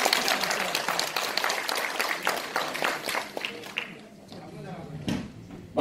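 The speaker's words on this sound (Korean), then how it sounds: "박수 한번" Applause from an audience at a club gathering electing a new president, quick dense clapping that thins out and fades partway through, with some talk and noise toward the end.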